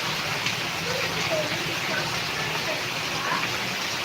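Heavy rain and flood water in Karnataka make a dense, constant wash of noise that stays loud and unbroken throughout, with faint voices underneath.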